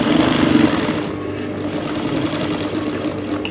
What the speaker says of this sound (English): I'm going to gently sew on the boning line that I already have there